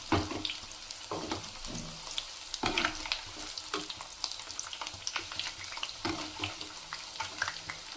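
Onion bajji fritters frying in hot oil as they are turned, with steady crackling sizzle and scattered clinks and scrapes of a utensil against the pan, close and moderately loud, no talking.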